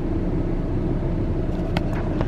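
Road traffic rolls by as a continuous low car rumble heard from inside a vehicle, with a few brief brighter swishes of passing cars near the end; no talking.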